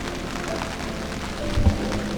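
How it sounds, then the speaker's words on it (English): Light drizzle patters steadily on a boat moored on a river at night, a soft continuous hiss with a few faint low knocks near the end and no voices. "The rain has also started, so yeah, luckily it's just a light drizzle, nothing too serious"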